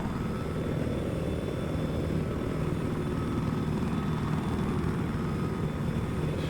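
A helicopter in a 16-versus-16 multiplayer video game makes a steady, droning rotor and engine rumble, heard alone with no talk.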